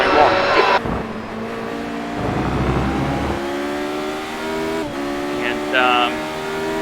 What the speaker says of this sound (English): So the V8's a BMW motor.